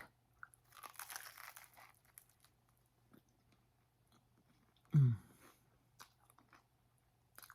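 Someone bites into an English muffin spread with homemade jelly, giving one sharp, close crunch midway, with soft chewing and faint rustling around it in a quiet kitchen and no talk.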